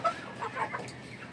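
Egyptian Fayoumi chickens on a poultry farm give a few soft, faint clucks within a brief moment, with no talk.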